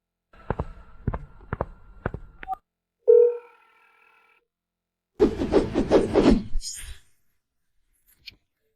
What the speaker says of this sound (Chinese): 怎么又打进来了？